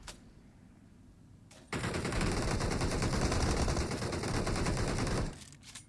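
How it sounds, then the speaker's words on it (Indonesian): Sustained automatic gunfire in the mobile battle-royale game PUBG Mobile erupts after quiet low-level game ambience, several weapons firing at once in a loud continuous barrage for about three and a half seconds before cutting off. "4 orang nembak lo."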